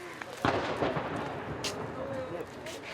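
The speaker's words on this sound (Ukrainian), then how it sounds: "Російські артилерійські залпи місцеві жителі та волонтери тут чують щодня." A single sharp boom of distant Russian artillery fire, followed by a rumbling tail and a couple of fainter thuds under a steady background.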